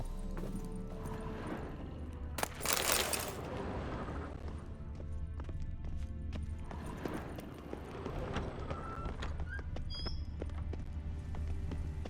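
Horse hooves clip-clop steadily at a gallop in The Witcher 3, a continuous rhythmic pounding with a brief louder burst early on and faint whinny-like tones over a dense background.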